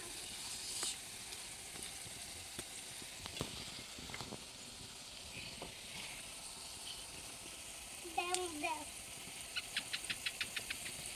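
Potatoes frying in a pan for aloo bhaja give a steady soft sizzle, with a few clinks and taps of a utensil and a brief scraping stir near the end.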